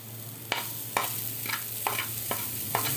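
Red chilli and crushed chilli mixed into a hot pan for an aloo chicken cutlet filling: sharp spatula scrapes and taps come at a regular pace over a low, steady sizzle, heard close up with no talking.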